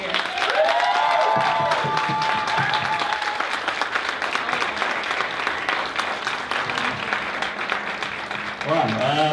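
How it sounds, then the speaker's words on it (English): Applause and cheering at the 2014 Cospy Awards, a cosplay community appreciation night: steady, loud crowd clapping with whoops, continuing for the whole stretch, and a voice rising briefly near the end. "So I want to give a round of applause to these guys right here."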